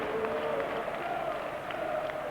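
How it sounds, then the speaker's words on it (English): A football crowd at Highbury applauds and murmurs at the final whistle of Arsenal's last home game against Leeds, a steady distant roar of clapping with faint voices in it. "Tony Adams will lead his side to take the applause of the crowd in this last home game"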